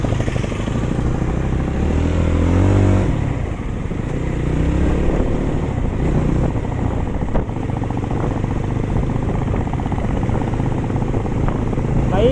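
A Jawa 42 FJ motorcycle on a test ride gives a continuous, heavy engine drone with wind rush. It stays loud and close throughout.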